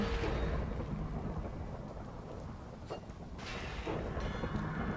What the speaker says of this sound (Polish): Piorun, tak mi się wydaje, nie? Że to jest piorun.